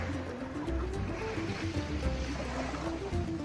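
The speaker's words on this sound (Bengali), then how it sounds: "আমাদের রিফাত ভাই বোটটা স্টার্টিং দিচ্ছেন" An outboard boat engine starts up and runs steadily on the Arabian Sea, its low throbbing drone heard close and continuous alongside wind and water noise.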